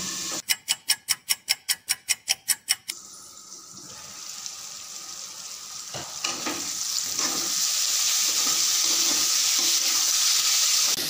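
Chopped pumpkin with turmeric frying in a pan, starting with a run of about a dozen sharp rhythmic taps, then a brief running-water hiss before a building, steady sizzle up close.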